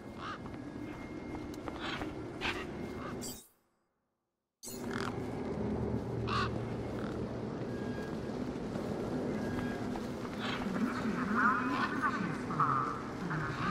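Bird squawking in Beyond a Steel Sky on Xbox Series S, harsh scattered calls over a busy ambient background, cut by a brief drop to silence partway through.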